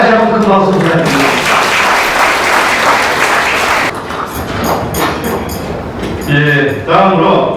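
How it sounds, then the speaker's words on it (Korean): An audience at a Korean forum lecture session breaks into loud, dense applause for about three seconds, with an emcee's voice speaking before and after the clapping. "큰 박수 부탁드립니다"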